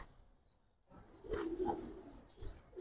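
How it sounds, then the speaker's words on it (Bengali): Giribaz pigeons coo softly in a room, a low murmuring of several birds rising after a quiet start, with faint chirps and a thin high tone over them. "এখানে অনেক কবুতর আছে"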